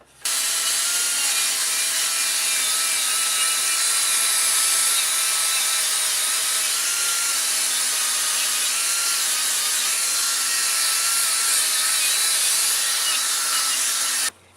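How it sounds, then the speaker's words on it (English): A die grinder fitted with a Scotch-Brite pad scrubs dirt off an OHV Briggs lawn tractor engine cover, giving a steady, loud, continuous high whirring and abrasive rubbing that holds without a break throughout. "I'm going to use my die grinder with the Scotch-Brite pad"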